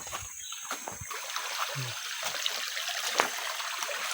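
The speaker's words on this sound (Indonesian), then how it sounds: "Ini sungai yang mengerikan tuh." Water trickling and rushing along a stream nearby, a steady wash with a few small splashes and occasional faint background sounds.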